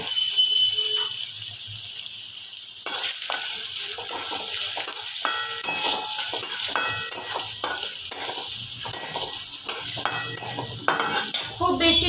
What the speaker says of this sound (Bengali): পনিরটা দেব তা পনিরগুলো একটু ভেজে নেব